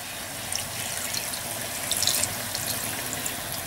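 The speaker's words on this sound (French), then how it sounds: "Vous rajoutez un verre de vin blanc ou de vin rouge, selon votre goût. Un verre de vinaigre blanc ou rouge." White or red wine and vinegar poured into a jar for pickled saffron milk cap mushrooms, a close liquid trickle and splash with a brief louder gush midway.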